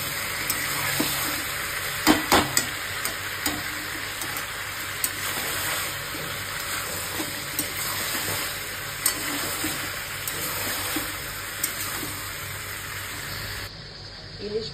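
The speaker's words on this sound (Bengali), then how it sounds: "মাংস কষা হচ্ছে।" Meat braising and frying in a kadai, with a continuous loud sizzle and occasional stirring clatter throughout, steady and close.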